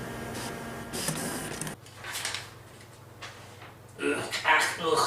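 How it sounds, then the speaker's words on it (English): A computer printer runs in bursts of mechanical whirring and sliding, moderately loud and close, with pauses between passes and a steady low hum underneath. "run this program through my printer."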